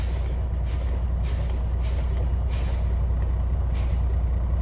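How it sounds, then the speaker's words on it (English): A truck's air brakes are pumped to drop the pressure from 120 to 85 psi, giving about six sharp hissing bursts at steady intervals over a constant idling engine rumble. "I will pump the brakes and bring it to 85 psi"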